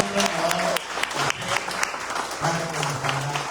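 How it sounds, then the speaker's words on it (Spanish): Audience applause at a talk on diabetes and high performance, a steady wash of clapping from a crowd, moderately loud throughout with a voice speaking over it. "Por favor, les pido un fuerte aplauso"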